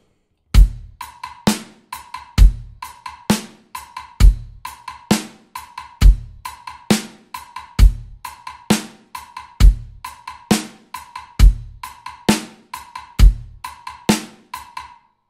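A drum kit plays a steady left-foot independence exercise, with loud bass drum and cymbal hits at a regular pulse and crisp hi-hat chicks falling on offbeat sixteenth notes, repeating evenly throughout.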